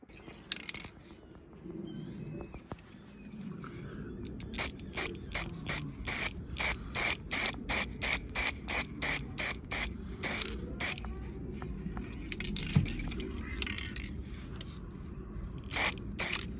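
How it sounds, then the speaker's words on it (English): Parts for a Batpod replica build are coated with an aerosol spray can, giving a close hissing spray in a long run of short rhythmic bursts with brief pauses and the odd rattle between them. "You don't need to see me just spraying stuff."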